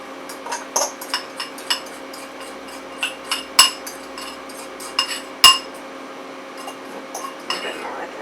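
Pumpkin pie crumb mixture dropped and pressed into an ungreased glass pie pan, giving a scattered series of light clinks and taps, with two sharper knocks against the glass over quiet background.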